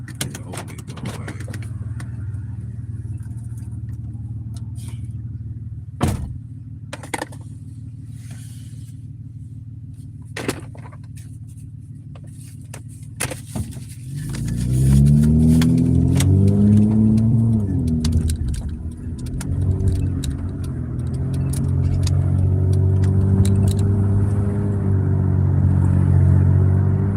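A car engine, running after an oil change left it short of Valvoline oil, idles with a low steady rumble, a few knocks, then revs up louder around the middle and keeps running loudly, with no voices.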